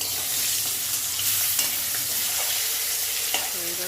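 Spice paste of coriander with salt, turmeric and a little sugar being stirred in a hot pan, a soft continuous sizzle with scraping strokes of a spoon, close and moderately quiet.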